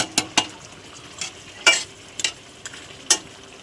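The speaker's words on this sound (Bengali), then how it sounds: "ভালো করে নেড়ে নেব। মাছের মাথাগুলো দিয়ে দিলাম। মশলা দিয়ে দিলাম।" Fish heads being stirred with spices in a frying pan, a close, clattering scrape of utensil on metal in several sharp strokes over a low sizzle, with no talk.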